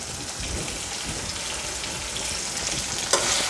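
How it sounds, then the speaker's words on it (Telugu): Chopped tomato and curry leaves fry in a pan, giving a steady, close, dense sizzle and crackle with a brief louder hiss near the end and no talk. "టమాటాని కొద్దిగా మెత్తపడేంత వరకు వేయించుకోండి"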